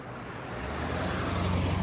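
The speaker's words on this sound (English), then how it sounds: "there's going to be a truck going by. It's kind of loud." A passing truck on a road builds as a low, steady rumble, growing slowly louder over under two seconds with no voices over it.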